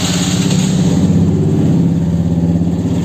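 A motorbike engine runs close and loud, a steady low throbbing idle with an even pulsing rumble that holds without a break, no voices over it.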